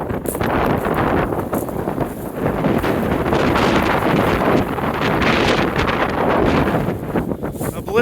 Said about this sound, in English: The blizzard has arrived.